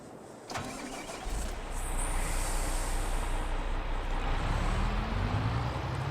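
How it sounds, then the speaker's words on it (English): Tractor engine in the video game Farming Simulator 22 starts up and settles into a steady, loud mid-pitched rumble that revs slightly higher toward the end, alone without talk. "I had to look where my tractor was."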